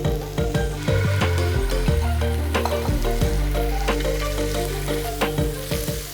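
A spoonful of homemade sauté base frying in a pan, giving a loud, continuous sizzle with repeated clinks and scrapes of a utensil stirring against the pan, close up and without talk.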